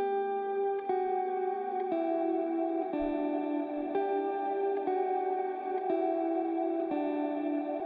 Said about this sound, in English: the very final part that I added to this track was this background guitar arp that just plays a really simple